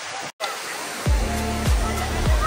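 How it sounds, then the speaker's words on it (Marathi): Vitthalwadi waterfall near Pali roars as a constant broadband wash of falling water, with a short dropout early on and a few low thumps and handling bumps over it. "तुम्ही बघू शकता, जो मागे दिसत आहे तो आहे विठ्ठलवाडीचा वॉटरफॉल."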